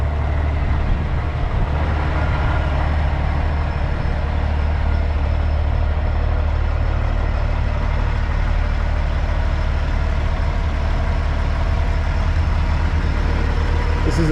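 A 2008 Kenworth truck with a 600 Cummins engine and 18-speed transmission idles with a steady, deep diesel rumble, loud and unbroken throughout.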